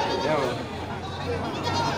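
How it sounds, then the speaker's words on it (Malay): Goats bleat amid a busy crowd at a livestock market, their calls mixed into a steady hubbub of voices and chatter. "Ya untuk kambing-kambing jantan ya."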